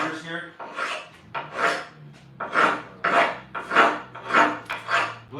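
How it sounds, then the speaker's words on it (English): A file rasps in about eight evenly paced strokes, close and fairly loud, rounding off the bevelled edge of a cut stone or tile board. "So I'm beveling out so it's nice and round, see, to the touch."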